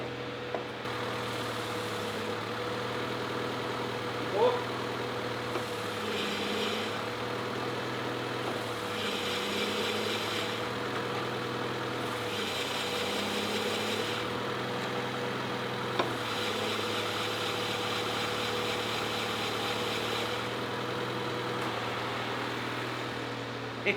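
Honda Integra Type R engine idling after a full restoration, a steady droning hum with a few mild surges as it runs up, heard close and fairly quiet with no talking.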